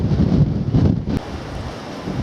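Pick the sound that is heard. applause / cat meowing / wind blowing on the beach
wind blowing on the beach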